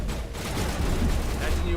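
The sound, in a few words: turret gunfire in the video game Mass Effect Legendary Edition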